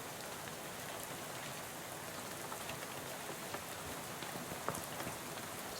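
Steady rain in the video game Shadows Over Loathing, a constant close hiss of drops on surfaces that stays even throughout, with a few slightly louder drips and no talking.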